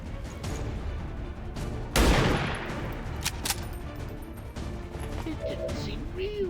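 Gunfire in the tactical strategy game XCOM 2 Long War: a loud, sharp burst of shots near the start, followed by fainter impact and effect sounds over a steady game background.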